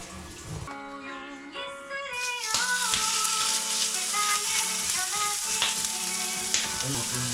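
Food sizzles in a hot pan in a kitchen, with a steady crackling frying sound that swells loudly after a few brief tonal sounds at the start and continues evenly to the end.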